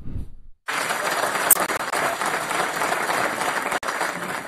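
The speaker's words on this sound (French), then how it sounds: "Ces juristes en herbe reçoivent leur prix sous les applaudissements de leurs professeurs et camarades de classe" Applause from professors and classmates at a law student award ceremony: a dense, sustained burst of clapping that starts abruptly after a brief voice and continues steadily.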